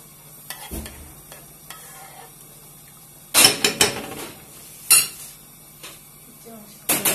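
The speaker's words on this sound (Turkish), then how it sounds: "Şöyle salçalı sos kaynadı." Tomato paste sauce bubbling in a pan and stirred, with several loud clattering scrapes of a spoon against metal between quieter stretches of low simmering.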